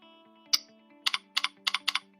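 Several key clicks from typing on a computer keyboard into a search box: one sharp isolated keystroke, then a quick run of a few close, crisp taps over a faint steady hum.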